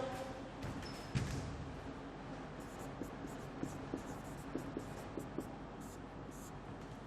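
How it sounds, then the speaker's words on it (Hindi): A teacher writes a definition on the board during a Class 12 maths lesson on relations and functions, producing steady faint tapping and scratching strokes over background room noise, with no talk while writing. "देखिएगा इसकी परिभाषा में लिख दे रहा हूं,"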